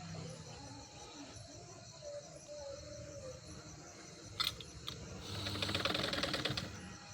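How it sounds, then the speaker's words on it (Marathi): A sewing machine stitches a blouse in quick bursts of rattling, with a louder, faster run of needle clatter toward the end, close and fairly faint. "समोरून तो जसा मी घेतलेला आहे कपडा तशी एक शिलाई मारून घ्यायची"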